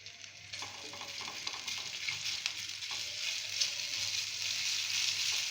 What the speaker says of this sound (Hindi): हल्का सा इसको फ्राई करेंगे जिंजर को।